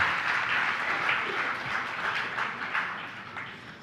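An audience at a spiritual discourse gives a steady wash of applause, many hands clapping together at moderate distance, evenly sustained and tapering slightly at the end, with no voices on top.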